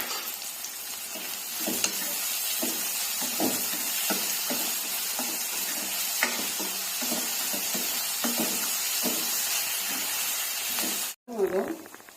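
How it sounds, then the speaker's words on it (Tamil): Chopped large onion sautés with a pinch of salt in a pan, giving a strong, steady sizzle with periodic stirring scrapes before a sudden cutoff near the end. "இதோட கொஞ்சம் சால்ட் ஆட் பண்ணுறேன், வெங்காயம் வதங்கிறதுக்காக"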